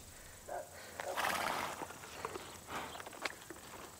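Horses on a farm estate, with faint hoof clops, snorting and shifting moving around close by amid outdoor ambience, with no talking.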